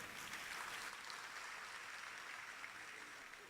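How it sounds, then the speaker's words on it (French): A conference audience at a Guinean student forum applauds a panel on technological innovation, a steady wash of many hands clapping, fairly faint and distant, with no voices over it. "on peut applaudir ce panel"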